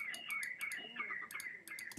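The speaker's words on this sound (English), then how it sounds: "Shut up, you birds!" Birds in a Minecraft-style video game chirp and tweet in quick repeated bursts, bright short calls in a busy rhythm, with no speech.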